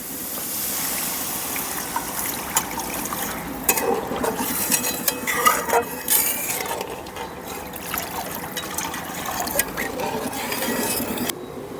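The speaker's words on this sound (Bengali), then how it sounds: "এখন এই পর্যায়ে আমি দিয়ে দেবো জল" Water poured into a pan of spiced fish curry masala with tomato, a trickling splash followed by stirring and clinking of a utensil against the pan, close and moderately loud, with no talk.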